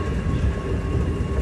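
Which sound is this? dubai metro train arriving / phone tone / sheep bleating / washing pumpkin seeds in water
dubai metro train arriving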